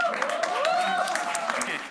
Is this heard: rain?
no